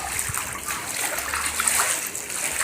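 Heavy rain pouring and running off surfaces in Caruaru, a dense steady wash of splashing water with no pauses, close and fairly loud throughout.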